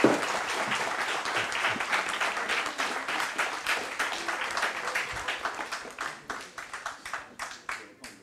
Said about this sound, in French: Ben, je vous demande de l'applaudir.